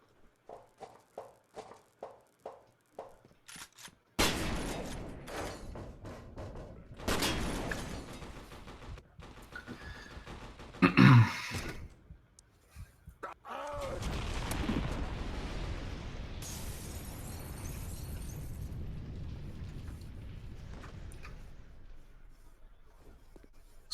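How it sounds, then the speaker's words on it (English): Scattered battle noise in the shooter F.E.A.R. Perseus Mandate, quiet sharp taps at first, then heavy rumbling blasts, crackling shots and a sustained roar of distant combat, all fairly faint. "there's a lot of fighting going on in this area"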